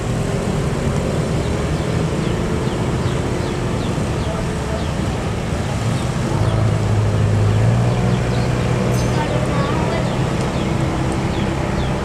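A Doa Ibu bus rolls past in heavy holiday traffic at Pasar Limbangan, its engine a loud, steady rumble. Other vehicles drone around it, and a low tone rises in the middle.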